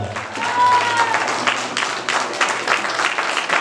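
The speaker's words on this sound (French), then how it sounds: "On peut les applaudir très très très fort." An audience applauds steadily, a dense wash of clapping that carries on throughout without anyone speaking.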